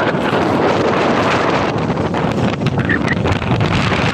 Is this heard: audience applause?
no